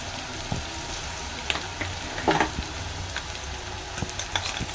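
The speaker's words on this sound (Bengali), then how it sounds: "দিচ্ছি আমি রসুন" Garlic is added to hot oil while cooking veg Manchurian, producing a continuous close sizzle with scattered crackles and pops.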